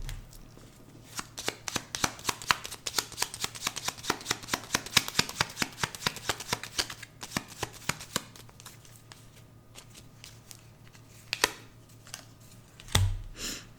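Tarot cards are riffled and drawn in a quick run of crisp flicking snaps that thin out into a few scattered slaps and soft handling sounds, close and alone without speech.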